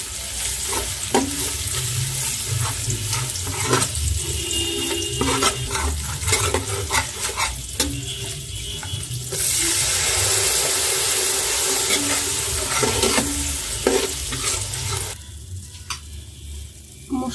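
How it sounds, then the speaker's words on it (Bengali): Spice paste of ginger and masalas sautéing in a pan for mung dal khichuri, a steady close sizzle with repeated scraping and stirring strokes of a spoon, growing louder and hissier midway, no talking. "এখন মশলাটা ভালো মতো কষিয়ে নিচ্ছি।"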